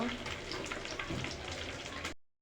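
Spices and turmeric sautéed in a pan for a puffed rice snack, a dense, continuous sizzle heard up close that cuts off abruptly at the end.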